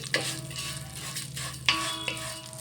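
Vermicelli frying in ghee, a soft continuous sizzle with stirring scrapes and a few sharp utensil clicks, close and fairly quiet.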